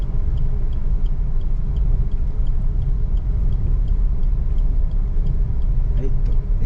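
A car drives along a broken, potholed road with a steady, close engine rumble and road noise from inside the cabin, with no clear rise in revs and no speech.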